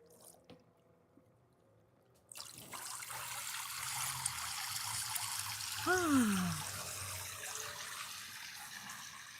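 A backyard garden water feature beside a pool starts trickling after a quiet moment, then runs as a steady, close splashing flow, with a brief high rising-and-falling chirp partway through.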